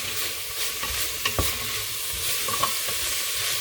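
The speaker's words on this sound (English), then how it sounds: "so now the cabbage goes in. Give that a stir." Shredded cabbage stirred into a pot of tomato minestrone, close steady sizzling with a few sharp spoon scrapes and knocks against the pot, no voices.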